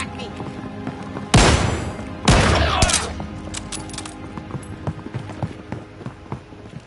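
Gunfire in Call of Duty Warzone: two loud, sharp bursts of shots in close succession, followed by scattered fainter pops and game sounds while a voice talks.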